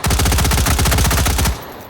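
Rapid automatic gunfire from a weapon in the VR shooting game H3VR, a loud close burst of evenly spaced shots lasting about a second and a half before cutting off into a faint tail.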